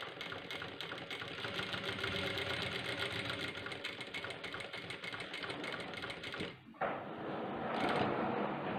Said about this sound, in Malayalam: ഈ ഹുക്ക് പോയിൻ്റ് എല്ലാം ഡബിൾ സ്റ്റിച്ച് അടിക്കണം.